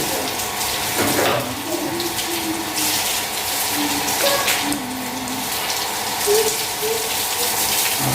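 Water sprays and splashes steadily as a hose rinses a motorbike, with a faint voice now and then beneath the rushing flow.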